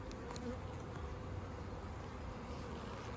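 A spring honeybee colony buzzing in an open hive, a dense, steady hum of many bees close by, unbroken for the whole stretch with no speech.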